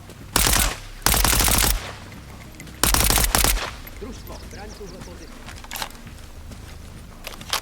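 Bursts of automatic rifle fire in ARMA Reforger, loud and close, come in three separate volleys with short gaps, followed by quieter clicks and faint footsteps.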